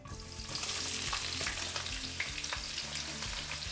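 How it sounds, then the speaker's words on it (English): Onions frying in olive oil in a deep pan over medium-low heat, a steady close sizzle with soft stirring scrapes and small pops, no voices. "I'm going to give this a good coating of olive oil, and I'm going to toss in my onions"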